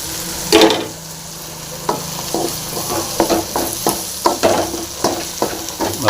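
Boiled, cut jackfruit seeds fry in a pan with coriander and spice powder, a soft constant sizzle broken by repeated scraping clacks of a spoon stirring against the pan, close and with no speech.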